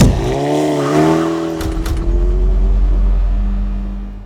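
A redesigned 2026 Honda Passport RTL SUV pulls away on a test drive, its engine note rising and then settling into a steady, loud drone with a little tire noise, and no one speaking.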